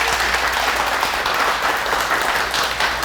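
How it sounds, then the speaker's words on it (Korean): An indoor audience at a Korean talk event welcomes a lawmaker with a steady burst of applause. The clapping is dense and even, and no one speaks over it. "큰 박수로 맞이하겠습니다"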